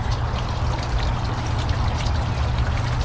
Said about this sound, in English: now their own little water feature